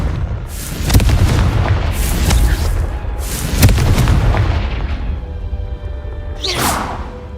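Confringo spells cast in Hogwarts Legacy, producing a series of loud booming explosions with whooshing blasts, several heavy impacts spaced a second or two apart over a rumbling low background.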